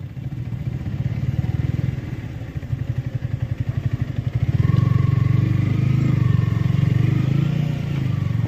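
A motorcycle rides along a road toward a dam, its engine chugging in a close, rhythmic pulse that rises to a louder, steadier drone halfway through.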